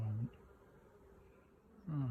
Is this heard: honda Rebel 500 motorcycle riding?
no